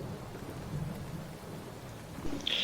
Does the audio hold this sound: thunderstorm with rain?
yes